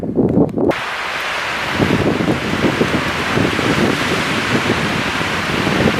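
Heavy rain and gusting wind in mountain wilderness during a thunderstorm, a steady loud rushing hiss with rumbling low gusts, close to the microphone and no voices.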